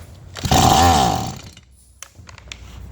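A Stihl MS170 chainsaw with a won't-start fault, set on half choke, being pull-started: one loud rasping recoil pull with a rising whirr of the starter cord, then faint clicks and light handling noises.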